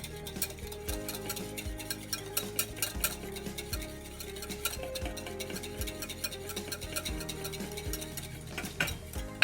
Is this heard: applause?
no